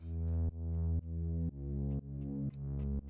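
A synth sub bass heavy with low end, pulsing in even repeated notes every half second, each swelling then cutting off, alone and fairly quiet.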